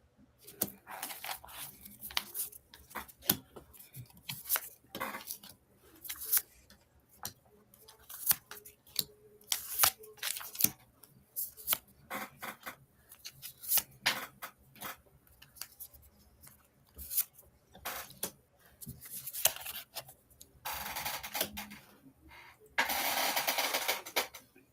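Tarot cards being shuffled by hand, a run of irregular papery riffles and flicks with crisp bursts and a denser stretch of rapid shuffling near the end, fairly close with no talk over it.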